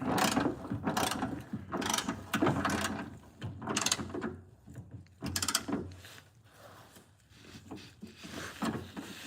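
Ratchet wrench clicking in repeated bursts as bolts are torqued down during a home car repair, close and fairly quiet, with short pauses between strokes.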